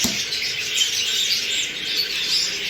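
Budgerigars chirp and twitter continuously in a breeding room, a busy overlapping chatter of many birds at moderate distance with no speech.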